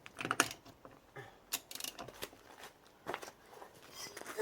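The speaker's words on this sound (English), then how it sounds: "To open the nut, I'm gonna use 32mm socket" Ratchet turning a 32mm socket to loosen a rear wheel nut on a BMW E46 318ti, heard as a run of close, sharp metallic clicks and clatters with short gaps between them.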